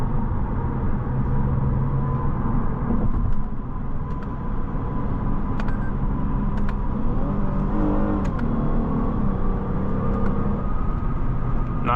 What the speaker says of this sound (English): Yeah, the engine sounds great.